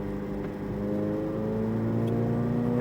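Corvette Z06 on a race track accelerating out of a corner, its engine holding a loud, steady drone with rising harmonic tones as the throttle is squeezed on throughout.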